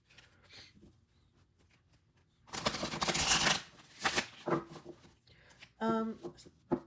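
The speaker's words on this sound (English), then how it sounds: "Pretty good shuffle there. Let's do one more." Tarot cards are shuffled in quick papery bursts, a dense riffling flurry in the middle followed by shorter snaps and a final riffle, close by.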